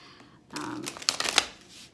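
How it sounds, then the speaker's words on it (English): Tarot cards are shuffled close by in a quick flurry of riffling and snapping, preceded by a brief soft rustle, with no talking. "I'm almost done shuffling the cards for you guys for the relationship reading"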